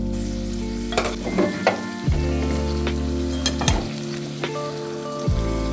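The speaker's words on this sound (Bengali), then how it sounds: "কষানো হতেই সিদ্ধ করে কাটা ডিমগুলো দিয়ে দিচ্ছি।" Boiled, cut eggs frying with yogurt masala for achari egg curry, a steady close sizzle broken by several sharp clacks and scrapes of a spoon against the pan, with no talking.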